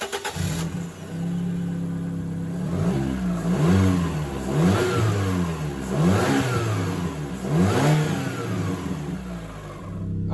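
The 1.4 litre naturally aspirated 16-valve engine of a Fiat Panda 100HP with a performance exhaust idles and then revs repeatedly, in four or five rising and falling surges that are close and loud, with no talk.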